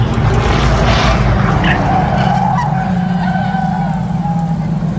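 Pure stock race cars roar loudly around a dirt or short track as a car spins out of turn four, with tires skidding and squealing over continuous engine drone.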